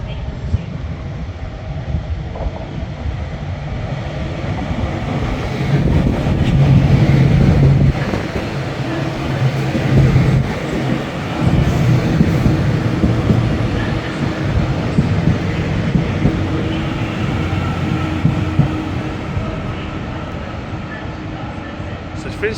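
A train at a Preston station platform, a sustained low rumble and mechanical hum from close by that swells and eases, with voices talking over it.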